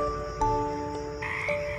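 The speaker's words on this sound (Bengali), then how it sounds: "F for frog." A cartoon frog croaks a few times, clear and close, with no voices or other sounds around it.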